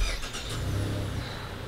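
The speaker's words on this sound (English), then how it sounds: "And there we go, my car turned on." A 2021 Mazda CX-30 starts at the push of a button, its engine catching and settling into a steady low idle hum close by, with no talking.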